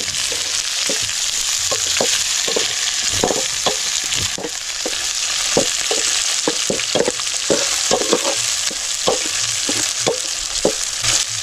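Onions sizzle and crackle steadily in a hot pan, cooking outdoors in a forest, with scattered sharp pops and occasional stirring scrapes.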